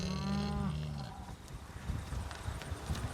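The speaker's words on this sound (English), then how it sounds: "Those cows there are on the other side of the fence." Friesian cows with full udders lowing from across a fence in a rural field, a couple of drawn-out moos at the start before giving way to outdoor rumble and wind.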